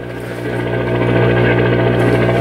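A Gates BC-1T AM broadcast transmitter signal tuned to 1450 AM gives a steady, loud droning buzz with a pulsing, chopping throb like a helicopter, holding constant without speech.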